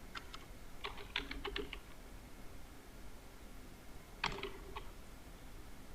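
Soft taps on a computer keyboard as text goes into a form field, one short cluster of keystrokes then a pause and another brief burst, faint against quiet background noise.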